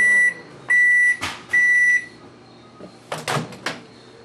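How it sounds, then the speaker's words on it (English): A microwave oven heating a grape runs with a steady hum after a series of loud electronic beeps and clunks of the door and buttons, followed by several sharp crackling pops. "Start the microwave."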